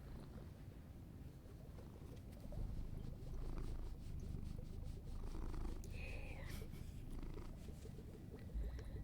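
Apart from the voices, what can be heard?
cat purring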